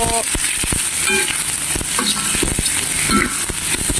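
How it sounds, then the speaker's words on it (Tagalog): Chicken liver and chicken meat being stirred as they fry in a pan for pansit gisado, with steady loud sizzling and sharp scraping stirs throughout, no talking. "Ilagay na natin ang ating chicken liver, chicken meat, chicken liver at chicken meat. Ayan, halo-haloin hanggang sa maluto."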